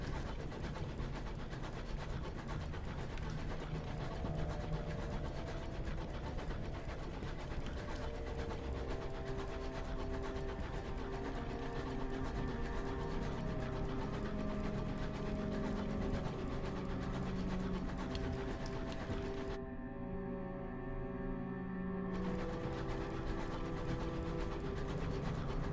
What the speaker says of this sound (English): The train navigational charting sound.